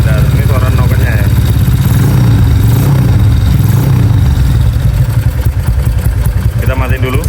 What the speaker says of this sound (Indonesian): Ini suara nokennya ya